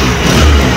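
Honda Activa 6G BS6 scooter engine cranking on self-start and catching, a steady close-up engine rumble for under a second with no talk.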